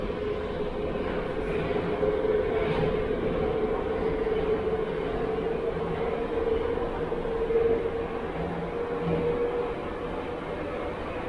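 A Sofia metro train rolls along with a steady, loud rumble and hiss, a constant droning tone running through the whole ride.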